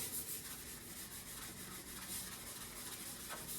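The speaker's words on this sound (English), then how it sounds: "I just give it a quick scrub and rub." Brisk scrubbing and rubbing across the seasoned cooktop of a wood cookstove, a close, steady abrasive swishing with repeated strokes and no voices.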